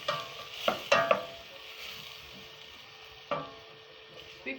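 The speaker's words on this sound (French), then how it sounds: "remuer constamment pour que ça ne se brûle pas en fait" Onions, tomato and carrots cooking in a pot are stirred, giving a few quick scraping strokes with soft clatter over a quiet, low simmer.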